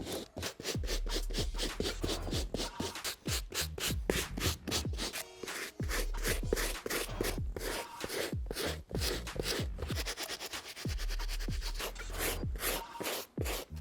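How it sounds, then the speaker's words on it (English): A medium bristle brush scrubs a mesh sneaker in fast, rhythmic strokes, close and loud, each pass giving a sharp, scratchy rasp with no talking over it. "When at home and you're cleaning any type of mesh sneaker, just make sure you're brushing in one direction"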